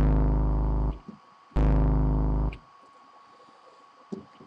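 A pig squeal bass synth patch built in NI Massive with effects plays two loud, distorted, growling sustained notes, each roughly a second long and separated by a short gap, followed by quiet tails and small clicks.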